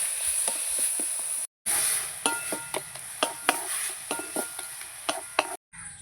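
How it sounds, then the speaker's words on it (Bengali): Coconut filling for kadam pitha, with a little water added, is stirred in a pan. The close scraping strokes repeat in a steady rhythm over a soft sizzle, with no talking. "কদম পিঠের জন্য নারকেলের পুরটা এরকম নেড়ে চেড়ে তৈরি করে নেব"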